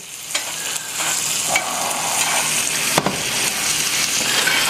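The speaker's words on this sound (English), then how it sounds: "you want to get that butter all over the steak, baste it for about 20 to 30 seconds" A thick steak sizzles loudly in a hot pan while being basted with butter, a dense continuous crackle and spatter with occasional spoon clinks and scrapes, close up and without talk.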